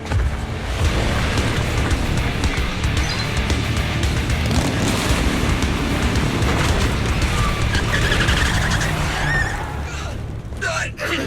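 A car engine roars steadily as the vehicle drives off in the video game Zenless Zone Zero, with loud rumbling and rushing noise throughout, fading near the end.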